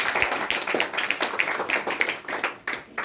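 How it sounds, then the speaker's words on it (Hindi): A seminar audience answers a wellness-product motivational talk with a few seconds of uneven hand clapping, sharp claps scattered rather than a full roar, fairly close and steady in loudness. "एक बार जोरदार ताली अपने लिए लगा लीजिए।"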